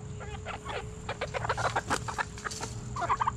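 Salmon Faverolles chickens cluck and squawk in a steady series of short calls from inside a small, tiny cage, close by, with a brief burst of louder clucking near the end and no talking.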